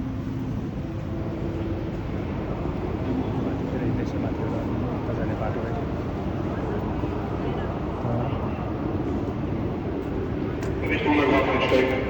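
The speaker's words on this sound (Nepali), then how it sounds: "यहाँको ट्रेन त जानु लाग्यो।" A train pulls out of a station in Germany, a continuous rolling rumble and hiss lasting about twelve seconds, with a brighter rattle near the end and a murmur of voices in the surroundings.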